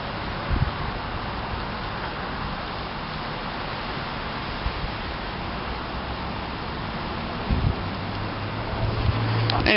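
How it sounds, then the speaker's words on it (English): Strong wind blows steadily outdoors as a broad, continuous rush that stays loud from start to finish, with a few brief bumps and knocks against the microphone and rising gusts near the end. "See, look how windy that is!"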